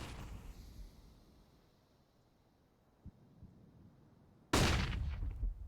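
A gunshot in CS:GO on the Dust2 map during an esports match fires as one sharp, loud burst near the end, with a dense noisy tail. It follows faint, scattered in-game noise and small pops.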